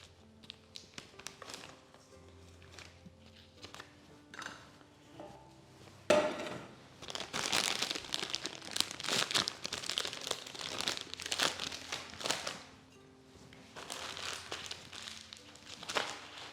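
A plastic piping bag being filled with a nut filling of butter, sugar and melted white chocolate crinkles and rustles up close in quiet bursts, with scattered light taps and handling noises throughout.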